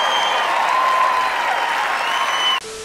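A cricket crowd at a Test match stands and applauds Mohammed Siraj, a dense, steady roar of clapping and cheering that carries on loudly for over two seconds before cutting off abruptly.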